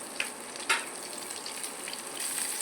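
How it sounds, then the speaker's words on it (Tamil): Tomatoes sautéing in a pan give off a soft, steady sizzle and hiss, with a couple of small pops near the start, fairly quiet and without voices. "தக்காளி நல்லா வதக்கிக்கலாங்க"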